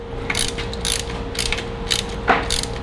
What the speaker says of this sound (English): Wrenching away.